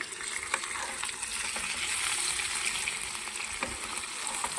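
Chicken masala fries in a hot pan while being turned over, giving a steady close sizzle with occasional scraping stirs and no talking.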